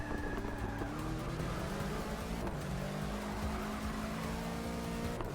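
Bentley race car engine roaring steadily in Forza Motorsport 6, with tires squealing as the car slides wide through a corner, loud and continuous throughout.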